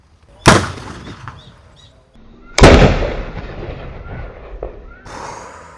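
Two sharp, loud blasts from a homemade spirit-fuel PVC firecracker ring out a couple of seconds apart, each followed by a rumbling echo and outdoor noise.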